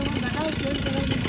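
A John Deere 5405 tractor with big tires runs with a low, pulsing engine rumble under loud, overlapping voices.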